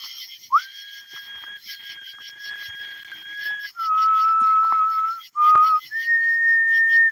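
A person whistles a long call in a cornfield at night, several sustained clear tones that shift pitch, loud and close in an otherwise quiet setting.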